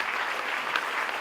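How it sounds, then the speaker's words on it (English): Audience applause at a speaking event, a steady dense wash of many hands clapping, moderately loud and continuous for a brief stretch with no voices over it. "Let's give them a round of applause."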